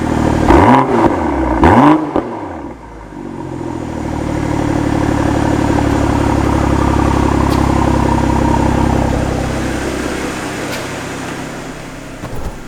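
BMW X3 M40i G01 with exhaust valves open, revved in sporty mode: two sharp blips, then a long sustained roaring rev that swells and falls away, loud and close with no talk.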